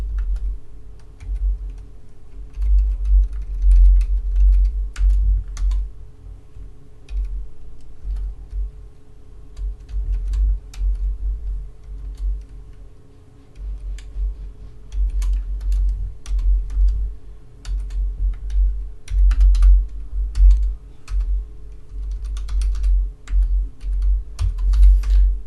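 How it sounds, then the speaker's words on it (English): Keys clatter on a computer keyboard while Python code is typed, a steady run of light, close clicks and taps over a low background hum, with no talking. "I was making sure I had that typed out right."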